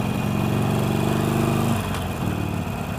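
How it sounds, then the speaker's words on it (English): Harley-Davidson Forty-Eight motorcycle with a V-twin engine, heard up close at a steady, loud, lumpy idle whose low throb drops slightly in pitch partway through, with no voices. "The sound is amazing. That's typical for a Harley Davidson."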